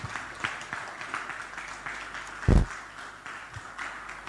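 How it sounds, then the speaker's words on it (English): At a midweek church service, a congregation claps along faintly in the background, with a soft, scattered patter of hands and one sharp thump standing out near the middle. Voices murmur quietly. "Everybody clap. Everybody clap."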